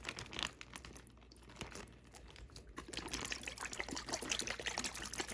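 Teriyaki sauce poured from a bottle into a Ziploc bag, a steady close liquid glug and trickle with crinkling plastic, building slightly louder toward the end, no voices.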